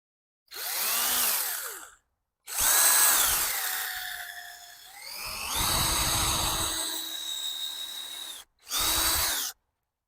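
A cordless power drill fitted with a square bit drives screws into wood in four separate bursts, each with a rising whine that slows as the screw seats, loud and close.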